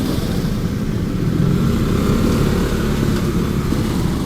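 A motorcycle carrying a passenger pulls away, its engine a loud, close, steady drone that holds throughout without clear revving peaks.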